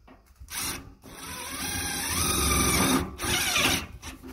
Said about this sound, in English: We can now go ahead and run our self-tapping screws in.